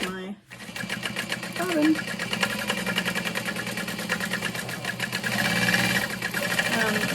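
A sewing machine basting a bag runs in a fast, steady rapid stitching rhythm, close and loud, starting after a brief pause, with a voice briefly heard over it.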